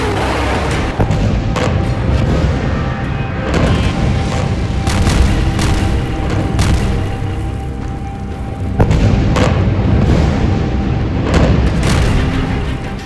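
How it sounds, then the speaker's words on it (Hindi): Israeli tanks blow up in conflict footage, heavy booming blasts rolling over a constant loud rumble, with sharper cracks near the start and a second burst of impacts later on. "हमास जो वीडियो जारी कर रहा है उसमें इजरायल के टैंक फटते हुए साफ नजर आ रहे हैं"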